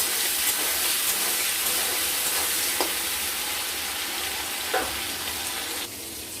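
Tomatoes sprinkled with a little salt sizzle steadily in a frying pan, with a few sharp scrapes of a spatula stirring them; the hiss stays constant and fairly close, easing slightly near the end, with no voices.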